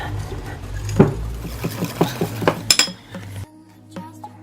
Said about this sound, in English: just going to use a whisk and mix it all up.